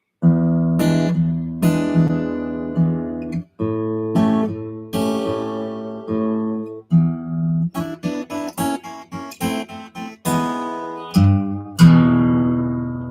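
A fingerpicked acoustic guitar plays a short picked phrase, notes and chords ringing in a steady rhythm with brief pauses, close and clear with no voices.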